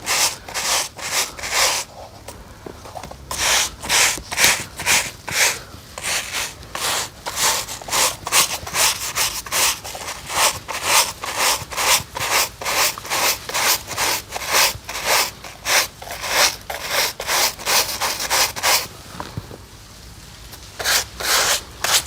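Stiff brush scrubbing white canvas sneakers soaked in a strong Hygiene detergent solution, a steady run of rapid rhythmic back-and-forth strokes, close and loud, with a couple of brief pauses and no talking.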